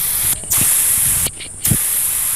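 Bike engine converted into an air compressor gives a steady, close hiss of escaping air that twice dips briefly and then resumes, along with soft low knocks.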